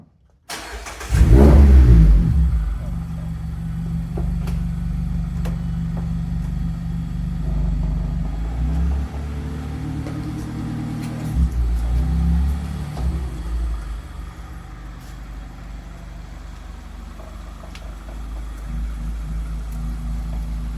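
A 2021 Mazda ND Miata with a Xineering blip module installed starts up with a loud burst, then settles into a steady, close engine rumble that swells briefly with a rev partway through before fading to idle.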